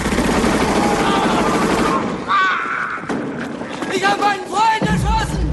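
Gunfire in a Stalingrad war film scene: dense, rapid bursts of shots crackle loudly through the opening seconds, then give way to sparse distant impacts under shouted speech.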